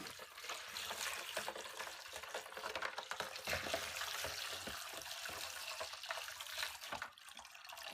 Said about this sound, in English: Let's pour water all over them.